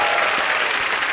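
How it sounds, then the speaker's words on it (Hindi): A studio audience at an Indian comedy talk show breaks into dense, steady applause, a loud wash of many clapping hands throughout. "जोरदार तालियां।"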